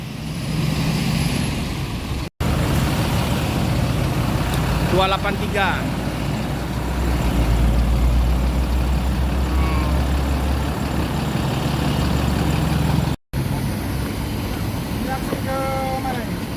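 Buses and trucks idle in an afternoon traffic jam, with a low steady engine rumble, brief horn-like bursts and a heavier rumble swelling in the middle, while people talk nearby.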